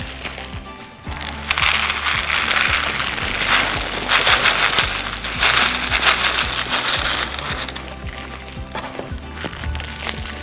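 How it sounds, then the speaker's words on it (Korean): Beads poured into a cone of bubble wrap for a Santa Claus craft, making a dense, steady rattling and crinkling patter that runs close and loud for about ten seconds. "원뿔 모양이 된 뽁뽁이 안에 비즈를 넣어주세요."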